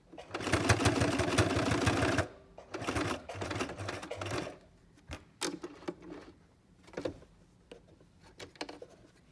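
A sewing machine stitches fabric in a loud steady run, then a shorter second burst, followed by scattered clicks and brief handling noises as it slows and stops.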